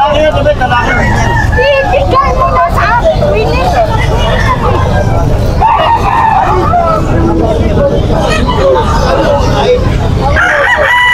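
A Talisain gamecock rooster crows at a busy Malabon flea market, its call rising over constant crowd chatter, vendor haggling and passing traffic noise.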